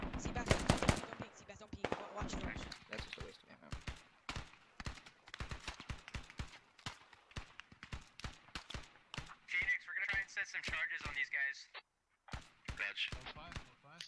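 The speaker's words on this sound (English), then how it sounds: "So Bump right now is firing off on that flanking element that HML was trying to maneuver into position here" Gunfire in the military shooter game Squad: a long run of sharp, irregular shots and short bursts, fairly loud and close, with a voice talking over parts of it.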